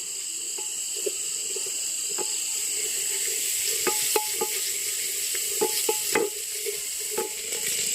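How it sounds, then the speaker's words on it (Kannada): Onions sautéing in oil in a pan for a seasonal village-style dish, outdoors, with a steady sizzle and scattered stirring clicks, and insects chirping faintly in the background. "ಒಂದು ಸ್ವಲ್ಪ ಈರುಳ್ಳಿ ಸ್ವಲ್ಪ ಕಲರ್ ಚೇಂಜ್ ಆಗೋವರೆಗೂ ಬಾಡಿಸ್ಕೋಬೇಕು."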